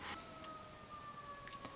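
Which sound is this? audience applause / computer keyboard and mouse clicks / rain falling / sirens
sirens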